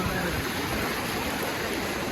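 Floodwater pours over a wall of sandbags in Kumaraswamypuram, Mullaitivu, a dense, steady rushing roar with no breaks, close and fairly loud throughout.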